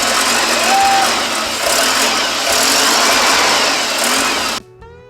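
A vehicle engine runs steadily and loudly for several seconds with a continuous mechanical drone and rattle, then cuts off abruptly near the end.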